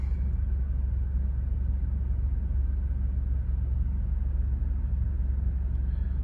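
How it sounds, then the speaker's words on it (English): A car engine idles steadily at minus 17 degrees in extreme cold, a constant low rumble running unbroken throughout with no speech. "sorry for the noise. I have to keep the car running"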